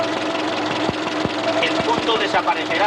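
A car engine is revved toward 2500 rpm in a workshop during a distribution timing check, running steadily with a rising, regular pulsing beat. A person speaks over the engine noise.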